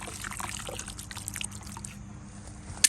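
Water splashes and trickles into a container with soap in it, a short, close, bubbly pour with small drips, ending in a sharp click.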